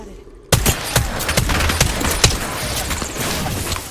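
Video game gunfire erupts suddenly in a loud close fusillade of rapid shots and cracks that keeps going in irregular bursts.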